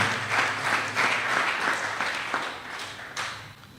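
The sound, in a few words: audience applause for donors at a ceremony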